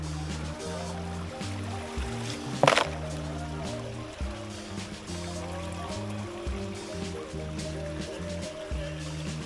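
Creek water washing steadily below cascades, a continuous trickling rush under a low droning hum, with one sharp splash or knock early on.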